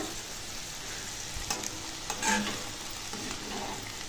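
Ivy gourd fry being stirred up from the bottom of a pan, a steady sizzle with soft spatula scrapes and a couple of brighter clinks near the middle, close and continuous with no talking.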